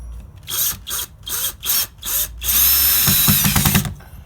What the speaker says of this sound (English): So she's going to use the larger drill bit so that this screw will not meet resistance.